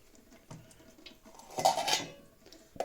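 Dishes clatter as a bowl and a pot are set down on a hard surface while making caciotta cheese, a brief clanking burst with quieter kitchen knocks around it.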